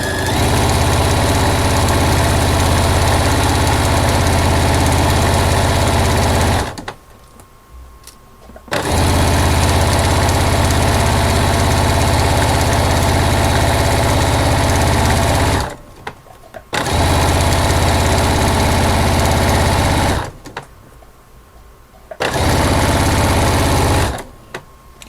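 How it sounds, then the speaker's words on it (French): A sewing machine stitching fabric ribbon on a notebook cover runs in long loud steady bursts, whirring continuously for several seconds, pausing briefly, then starting up again three times. "je descends d'abord mon aiguille à la main et ensuite je peux partir et coudre"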